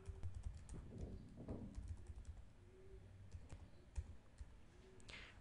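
A computer keyboard is typed on in quick, irregular bursts of soft clicking keystrokes, close and fairly quiet, with no talking.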